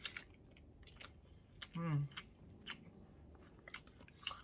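Close, soft chewing and slurping while eating jjageuli, a Korean stew, with scattered moist bites and one brief voiced murmur amid quiet background.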